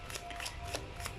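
A deck of oracle cards being shuffled quickly, soft riffling bursts repeating about every third of a second, quiet and close, with no talking.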